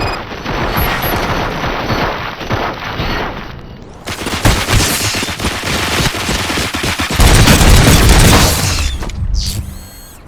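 Heavy video game gunfire from Robocop Rogue City, with rapid automatic bursts and booming impacts in dense, loud volleys, a short lull in the middle, then more sustained firing and mechanical clatter.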